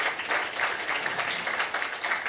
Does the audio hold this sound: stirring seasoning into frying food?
no